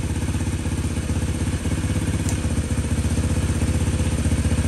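A motorcycle idles with a steady, rhythmic chugging and light mechanical clatter, the engine close and unchanging for several seconds with no voices.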